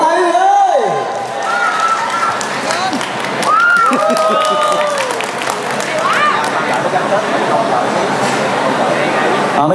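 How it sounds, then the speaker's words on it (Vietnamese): Wedding guests applaud and cheer at a reception, a sustained crowd clapping with scattered voices and whoops, loud and continuous throughout, with some tonal background sound mixed in. "Một tràng vỗ tay quý vị ơi"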